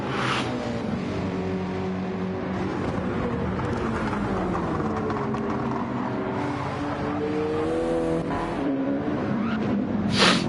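A Rich Energy Subaru BRZ race car in Gran Turismo 7 laps the Nürburgring GP circuit with a continuous loud engine drone. Its pitch sweeps up and down through gear changes, with a sharper revving burst near the end.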